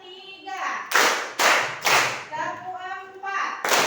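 Classroom clapping game led by a teacher: children clap a rhythmic pattern, giving loud sharp bursts of claps in quick groups with short pauses between them. Children's voices and talk are heard around the claps.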